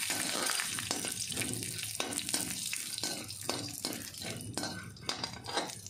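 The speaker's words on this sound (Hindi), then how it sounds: "मैंने इसको कच्ची मूंगफली को भून रही हूँ" Raw peanuts roast in a little oil in a hot kadai. A steady sizzle is broken by repeated scraping and stirring clinks of a spoon against the metal pan.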